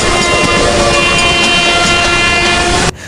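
An Indian Railways train horn blares loud and close after an emergency chain pull, one sustained tonal blast lasting about three seconds before cutting off abruptly.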